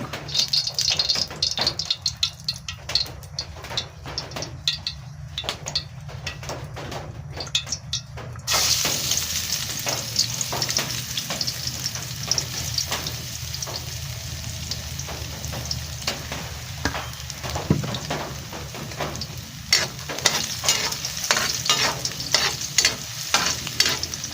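Kangkong and dried fish fry in a pan for adobo, making a steady sizzle beneath constant scraping and clinking of a spatula stirring against the pan. The sounds continue close and busy throughout with no speech.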